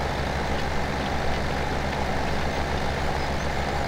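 Steady, loud engine drone of a tractor driving in the farming game Landwirtschafts-Simulator 17, a constant low rumble without pauses.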